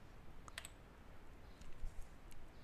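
A few faint, quick clicks of computer keyboard keys come through over a quiet background hum, sparse and close, with no talking.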